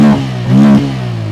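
A Bajaj Pulsar N160 motorcycle with an underbelly exhaust starts and revs, its single-cylinder engine rising in pitch to a brief throttle blip before settling back to a steady idle, close and loud.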